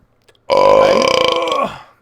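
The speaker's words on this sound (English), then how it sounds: "That one big belch" A single long, loud burp erupts close to the microphone, holding a deep voiced tone for over a second before trailing off.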